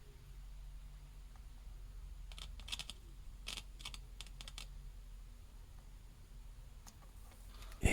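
A Suiko ST-20 amplifier under repair gives off irregular, sharp clicks as its input signal path is probed; the faint bursts come singly and in quick clusters over a low hum.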